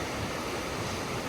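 Steady rushing of the Oqsuv river water flowing down from the Jordan side at Shohimardon, a dense, continuous broadband roar close to the microphone with no voices and no breaks.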